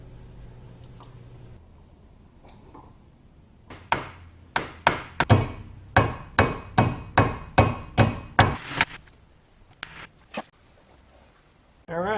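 A hammer drives a new axle seal into the axle tube of a Moser 12 bolt rear end on a '95 Pontiac Firebird, roughly a dozen sharp metallic strikes in a steady rhythm, close and loud, after a brief quiet start.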